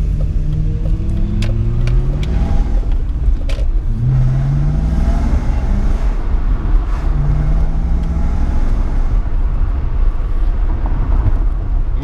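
A BMW E39 540i with a V8 and manual gearbox drives along, its deep engine note droning loud and steady from inside the cabin, with low rumble and occasional rising pulls and no talk.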